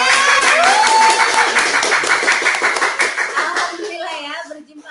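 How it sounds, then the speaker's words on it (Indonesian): A studio audience claps in a dense burst that fades out, with music and other sounds mixed beneath the clapping. "mana tepuk tangannya?"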